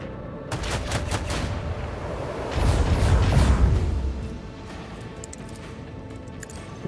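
A Mars Pattern weapon battery firing in Rogue Trader, a rapid volley of heavy booming shots swelling to a dense, rumbling barrage midway before fading to a low hum.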